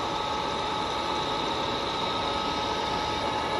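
A Csepel RF 50/1600 radial arm drill runs with its spindle at the low 50 rpm setting, producing a steady, even machine hum with a constant whine and no variation or talking.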